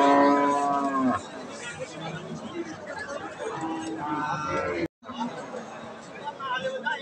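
A large pregnant Holstein Friesian cow lows loudly at a traditional rural cattle market, one long moo at the start and another later, amid constant crowd chatter and people talking nearby.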